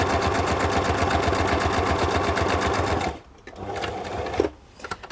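A sewing machine runs a straight stitch with a steady, fast, even mechanical chatter for about three seconds, then stops, leaving a few soft handling sounds.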